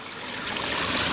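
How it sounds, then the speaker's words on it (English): Water spills from a drilled stacked slate sphere garden water feature, 60 centimetres across, in a steady, close trickling wash with no pauses. "Been drilled out, so a little bit more water flowing from there."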